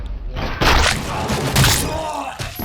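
A heavy thud and crash as a door is breached in the game RoboCop: Rogue City, followed by a brief rush of debris and a second impact, with faint game sounds around it.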